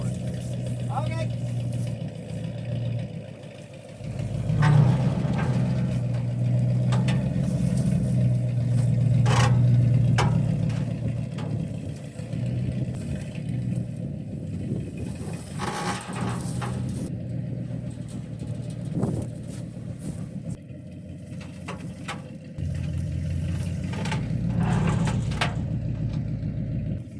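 A 1983 Mustang drag car's engine rumbles low and steady for a long stretch with a brief swell in the middle, heard from some distance with voices in the background.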